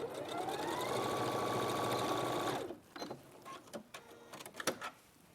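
A domestic sewing machine stitches a cushion seam, a steady close whirring hum for a few seconds before stopping, followed by scattered clicks and handling noises as the fabric is adjusted.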